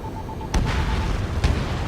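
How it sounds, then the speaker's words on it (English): Bombs exploding in the combat flight game Ace Combat 7: Skies Unknown, two deep booming blasts about a second apart over a steady rumbling backdrop, loud and heavy. "Bombs away."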